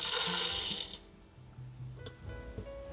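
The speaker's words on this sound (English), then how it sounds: "let's grind this" A Niche Duo coffee grinder grinds beans with a loud, dense whirring rush for about a second, then the motor winds down into faint mechanical clicks and light tapping.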